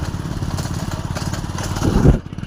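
Close motorcycle engine putting along with a rapid rhythmic thump, swelling louder as it revs near the end.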